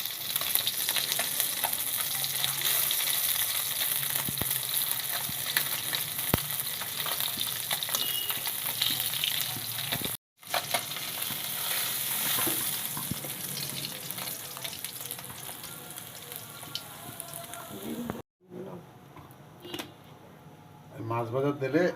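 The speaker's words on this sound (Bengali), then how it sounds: "মাছ ভাজার তেলে মশলাটা কষায় নিচ্ছি" Hot oil left from frying native koi fish sizzles loudly and steadily as spices are stirred in it, a dense close crackle broken by two brief silent gaps.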